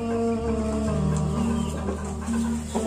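A newly arrived long-tailed rooster of a crossbred type, with one broken leg, clucks steadily and close by in repeated low throaty calls with no talking over it.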